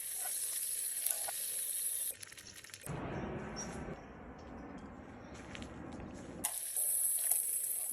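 An egg fries in a pan with a steady, bright sizzle that gives way midway to a rougher rushing, bubbling wash before the crisp sizzle returns.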